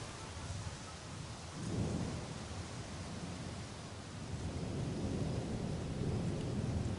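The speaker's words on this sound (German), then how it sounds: "Und es donnert." Distant thunder rumbles low and long beneath steady rain, the rolling swell rising twice over a constant soft hiss.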